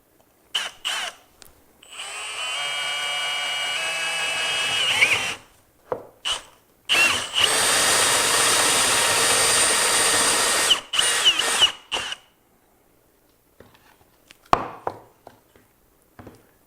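Power drill boring a hole in wood clamped to a workbench, whining in bursts of several seconds with short pauses and clicks between, the longest run in the middle, fading to faint handling sounds.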